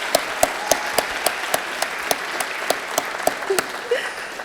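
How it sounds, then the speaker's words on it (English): An audience at a women's awards celebration applauds steadily for Dr. Kelsey. Sharp, regular claps stand out in the moderate clapping, with a brief voice near the end. "let's give her that applause"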